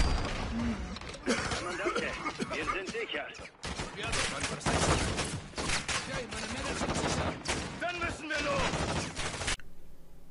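Bursts of automatic gunfire crackle through a Call of Duty: Modern Warfare 2 (2022) firefight, dense and continuous with brief gaps, as someone talks over the shooting.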